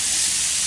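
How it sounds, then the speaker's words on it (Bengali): Pointed gourd (potol) frying in hot oil in a pan gives a loud, continuous close sizzling hiss in one brief burst. "পটলটা ভাজবো।"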